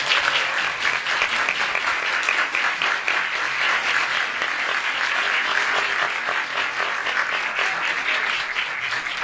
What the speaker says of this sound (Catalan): Un aplaudiment, sisplau, per ella.